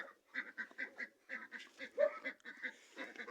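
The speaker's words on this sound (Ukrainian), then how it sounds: "бежала качка тут" A duck quacks repeatedly in quick, uneven bursts, fairly close and clear against a quiet background.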